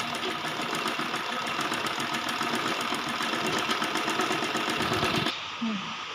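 Sewing machine stitching pleats and tucks into a baby frock, a steady rapid mechanical whirr running continuously for about five seconds before stopping, with a voice briefly heard afterward.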